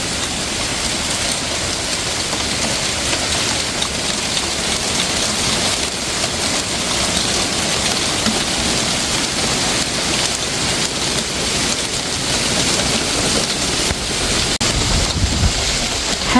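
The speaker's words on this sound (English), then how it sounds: "December 31st, and we're getting a hailstorm." Hailstorm on New Year's Eve, a dense, continuous patter of hailstones striking surfaces all around, steady and fairly loud with no voices.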